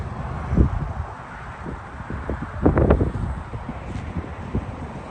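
Gusty wind on a blustery day around Moab, Utah, buffeting the microphone in uneven rushes with a few stronger bursts, with no talk over it.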